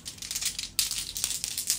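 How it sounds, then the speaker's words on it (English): Zodiac sign cards are shuffled by hand, giving a close, continuous papery riffling and crinkling with brief louder snaps, heard alone without talk. "what I like to do is shuffle your signs really well"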